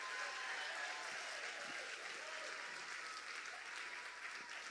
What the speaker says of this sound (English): How about a round of applause for our MCs?